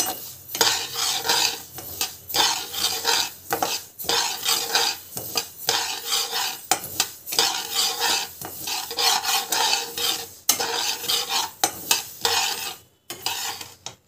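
Mustard seeds are roasted in a pan for Andhra avakaya mango pickle, giving close, steady scraping and stirring of a utensil against the pan with a faint sizzle and rattle.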